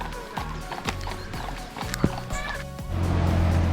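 Horses pulling carriages through a mountain valley near Zakopane, hooves clip-clopping in an uneven rhythm close by, with wheels rolling and a rising rumble toward the end.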